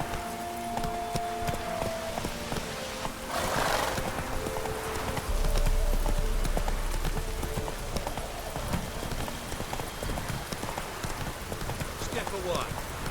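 In The Witcher 3, a horse gallops with rapid, rhythmic hoofbeats over rain and outdoor ambience, with a brief neigh and a spoken voice partway through.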